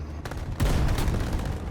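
A tank cannon in War Thunder fires from a Vickers Mk. 11, a sudden heavy boom with a deep rumbling tail following quieter distant thuds, loud and close with no talking.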